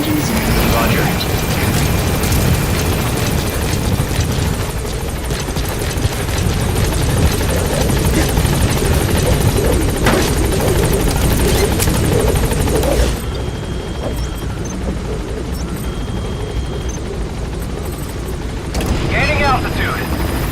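A helicopter in the video game Metal Gear Solid V gives a loud, steady rotor and engine roar that continues throughout, with radio-style voices speaking over it.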